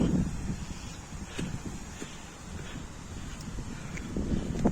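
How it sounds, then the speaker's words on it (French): Gusty wind at Lac de Chabarrou, a mountain lake at 2,302 metres, buffets the microphone in low rumbling blasts with faint rustles, steady throughout. "C'est dommage qu'il fasse ce vent."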